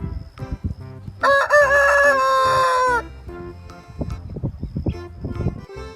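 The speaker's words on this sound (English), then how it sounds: "This is a rooster saying cock-a-doodle-doo." A rooster crows a single loud, drawn-out cock-a-doodle-doo close by, with bursts of farmyard noise and fowl clucking before and after.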